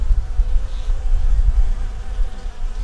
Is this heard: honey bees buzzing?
yes